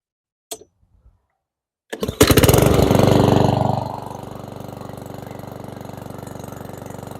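A 150cc lawnmower engine fires after a brief quiet pause, catching with a loud surge that settles within a couple of seconds into a steady, lower idle running close by.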